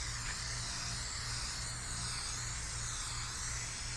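Continuous hiss of a spray can of aerosol paint stripper being applied, steady and unbroken throughout at moderate level, with no voices.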